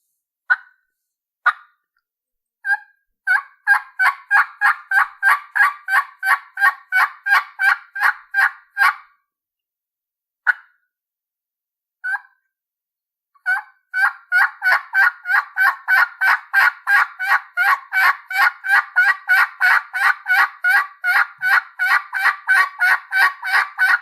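A hand-operated turkey call imitates a hen turkey: a few sharp, isolated clucks, then a long series of rapid, evenly paced yelps, a pause with more single clucks, and another long, loud run of yelps, close and clear with no talking.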